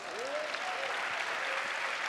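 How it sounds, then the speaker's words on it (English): An audience breaks into a sustained round of applause, dense and even in loudness, with a faint voice briefly calling out at the start. "you should give yourself a round of applause"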